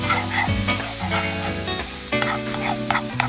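Gravy browning in a pan for pork steaks gives a steady sizzle with some stirring and clinks, holding loud and even throughout with no voices.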